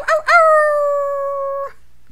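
A person imitates a dog howl, giving a couple of short yelping onsets followed by one long sustained howling tone that is loud and close, then cuts off.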